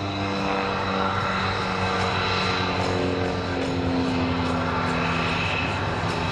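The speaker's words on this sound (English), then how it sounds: "Watch now as he takes the aircraft straight back up in the skies over New Jersey" A propeller aerobatic airplane performs at the 2018 Joint Base McGuire-Dix-Lakehurst open house airshow in New Jersey, its engine droning steadily and loudly throughout, from fairly near, with a slowly shifting pitch and no talking.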